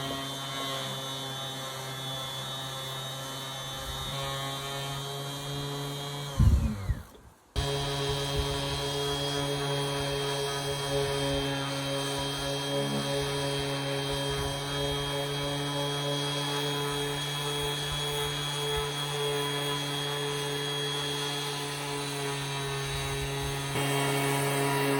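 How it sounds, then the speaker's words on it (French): A power sander works a wooden table top with a loud, steady, close motor whine and hum, briefly stopping and restarting partway through, then running on evenly with no speech. "C'est parti les amis, on va poncer."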